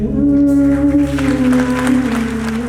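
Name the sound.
theatre audience applause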